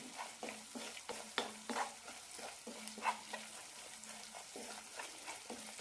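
Chicken pickle masala with green chilies and chili powder is stirred in a pan: soft, rhythmic scraping strokes over a gentle, faint sizzle, repeated steadily with no talking.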